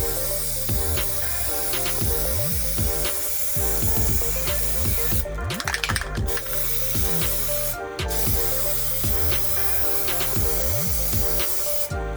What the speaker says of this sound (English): here we go with the last and final coat of the matte